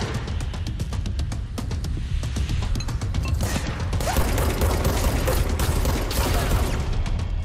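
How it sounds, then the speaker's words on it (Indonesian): Rapid bursts of gunfire in the video game Control, dense crackling volleys with booming impacts that thicken and grow louder toward the end. "Mana lagi sih ada yang nembakin lagi deh"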